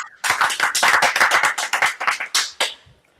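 A small audience claps for a guest at a whisky event, a close, loud burst of distinct hand claps that thins out and stops after about three seconds.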